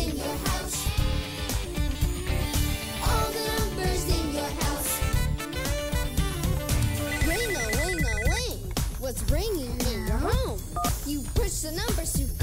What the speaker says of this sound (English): I know a telephone.